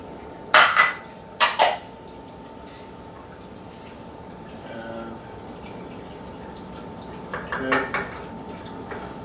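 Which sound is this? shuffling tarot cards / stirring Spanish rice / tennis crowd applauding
stirring Spanish rice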